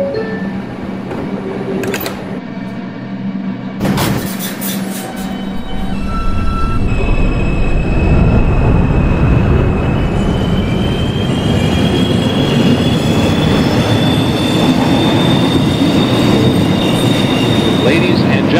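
A 2 express subway train departing in the OpenBVE simulator: door chimes and clicks give way to a rising motor whine and growing rumble of wheels on rails, sustained and loud.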